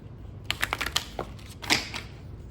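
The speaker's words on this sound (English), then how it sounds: "So I will shuffle the card for you" Tarot cards shuffled by hand during a love reading, a close run of quick crisp riffling clicks and soft snaps lasting a couple of seconds.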